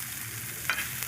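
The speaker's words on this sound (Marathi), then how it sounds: "कांदा मस्तपैकी तव्यावर टाकायचा, मिरची कांदा मस्तपैकी भाजायचा" Chopped onion and green chilli frying on a hot pan, a continuous close sizzle with a brief scrape of stirring partway through.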